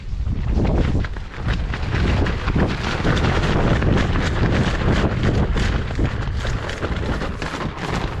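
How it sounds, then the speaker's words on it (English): Strong wind roars and buffets steadily against the microphone at an exposed bicycle tarp campsite, a dense, gusting rush with no pauses. "It is windier than probably what's safe"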